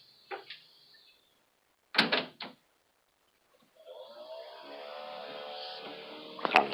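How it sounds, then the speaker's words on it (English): An indoor door is pushed shut, with a couple of quick clunks and a latch click near the middle, set between quiet gaps and a soft rustle, followed by a low steady hum. "Gotta shut this door."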